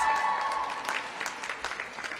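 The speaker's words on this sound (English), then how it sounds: "let's give her a big round of applause." Audience applause at a Save Women's Sports Act event honoring a state senator, a steady mid-level wash of clapping from a crowd that fades slightly over about two seconds.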